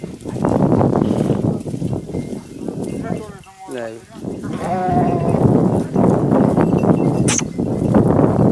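Sheep bleat in a few wavering calls near the middle, amid a busy outdoor scene with people talking throughout.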